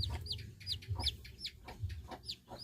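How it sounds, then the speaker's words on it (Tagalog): A chicken clucks repeatedly in short, bright bursts close by, with a steady low rumble underneath throughout. "Chicken."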